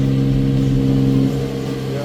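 A 440-horsepower luxury convertible's engine idles with a deep, steady rumble and strong low harmonics, easing slightly near the end; a voice may murmur faintly underneath.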